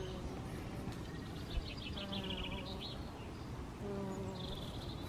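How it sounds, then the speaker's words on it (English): Honey bees buzz steadily around a hive at close range, a dense continuous drone with individual insects rising and fading, while a few bird chirps sound faintly in the background. "Very busy, aren't they, the bees?"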